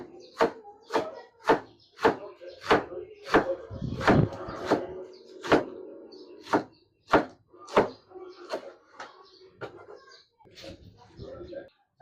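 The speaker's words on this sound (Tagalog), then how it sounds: "Slice lang natin ng pang pancit" A knife slicing cabbage on a chopping board for pancit, sharp regular chops in a steady rhythm of about one per half second, close and clear, with a short busier stretch midway and a voice speaking under it.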